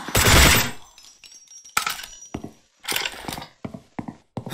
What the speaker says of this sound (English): I like the sound of this weapon. You can hear the bolt,